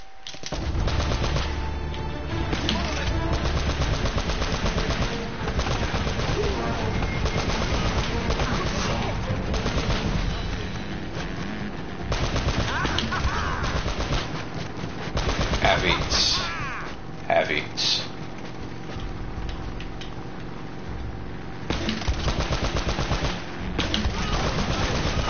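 Sustained gunfire from an Uncharted video game shootout, dense automatic bursts and single shots running continuously and loud, with a voice talking over parts of it.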